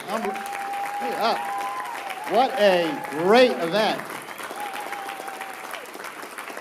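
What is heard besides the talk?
audience applause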